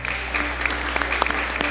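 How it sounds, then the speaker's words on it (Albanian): An audience applauding on a television contest show, a dense, steady burst of clapping heard close and filling the whole short moment. "Një duartrokitje."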